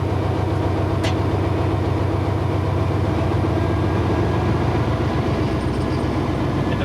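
A diesel locomotive engine in a shop drones loudly and steadily at the fifth throttle notch with its turbo engaged, a heavy continuous mechanical rumble with a faint whine, no voices.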